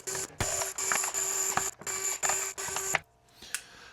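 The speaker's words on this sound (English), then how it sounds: "Now we just need to unscrew all of the screws." Screws are backed out of a plastic dinosaur climbing toy with a powered screwdriver, giving a series of close, quiet whirring bursts separated by short pauses.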